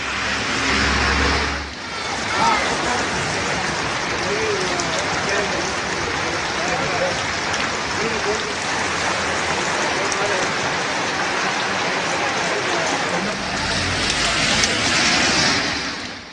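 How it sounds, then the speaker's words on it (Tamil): Sudden light drizzle falling across Ooty, Tamil Nadu, a steady broadband hiss of rain holding at an even, fairly loud level throughout, with a faint low rumble of passing road traffic beneath and a brief dip near the start. "உதகையில் பல பகுதிகளில் திடீர் சாரல் மழை பெய்தது"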